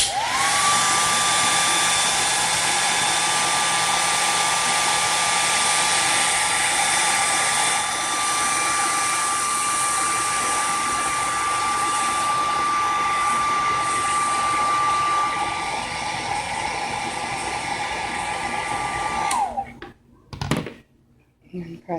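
A hair dryer runs steadily as it heats Jamberry nail wraps, a loud continuous blowing whir that holds for about twenty seconds and then cuts off abruptly, leaving a few faint handling noises. Someone speaks faintly under it.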